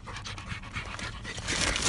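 A rescued dog pants quickly and close by in quick breathy bursts, growing a little louder toward the end.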